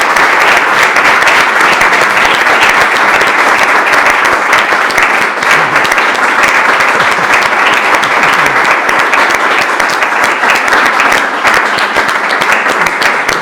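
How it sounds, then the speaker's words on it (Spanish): Sustained audience applause at the end of a round table discussion, a loud, dense, even wash of many hands clapping that continues for over ten seconds without letting up. "Que quede claro que os estáis aplaudiendo a vosotros mismos"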